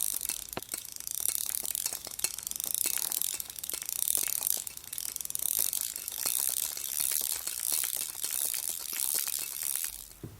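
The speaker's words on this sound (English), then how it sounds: "this is a fishing reel, which rotates and also has a little up and down movement" A fishing reel spun by hand gives off a steady run of fine ratchet clicks with metallic pawl ticking, near and fairly loud, without talk.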